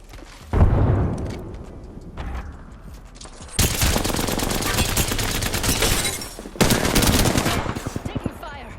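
Rapid automatic gunfire in the Apex Legends battle royale game, with sustained loud bursts and separate volleys of shots from close by, a brief heavy impact near the start, and faint in-game voice callouts in between.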